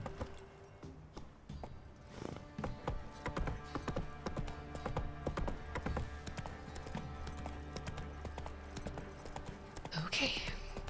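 Hooves of the horse Roach clip-clopping steadily in The Witcher 3, a fairly close, regular rhythm running through the whole stretch over game ambience and music.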